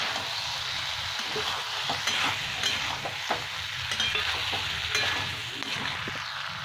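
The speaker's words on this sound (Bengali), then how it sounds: "এবার চিংড়ি মাছটা দিয়ে দিলাম, নেড়ে নিয়ে জল দিয়ে দেবো।" Prawns go into a pan with fried taro and sizzle steadily while a spatula scrapes and stirs in irregular clicks, close and with no voices.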